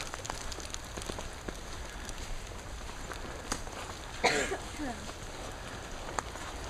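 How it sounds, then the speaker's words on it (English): Rain falling on a hike, a soft steady patter with a brief heavier burst midway, while a person speaks and clears their throat close by. "Alright, rain's letting up a little bit."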